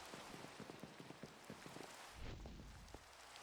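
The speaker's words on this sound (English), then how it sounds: "Get rid of the rain." Steady broadband rain in the ATM10 Minecraft modpack, patters and drips spread evenly over a constant hiss, moderately loud, with a brief denser low rumble midway and no voices.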